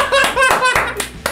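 Hands clap a few times in quick, uneven bursts close by during a lively party game, mixed with excited voices and laughter.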